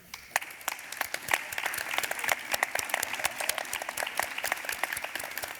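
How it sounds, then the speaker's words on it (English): An audience claps steadily at a public talk on hospitality, the applause dense and sustained throughout with no voices over it. "give a very big applause for Maya Hoffman"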